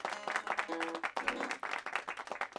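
An audience claps in a short burst of applause, with fairly quick, crisp claps of moderate loudness under a lively room ambience.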